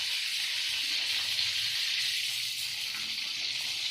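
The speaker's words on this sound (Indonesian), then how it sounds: "Ini kita akan goreng sampai benar-benar matang." Food sizzles in a frying pan, a bright steady hiss that holds evenly without pause, close and fairly loud, with no talking over it.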